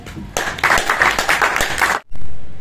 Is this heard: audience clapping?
yes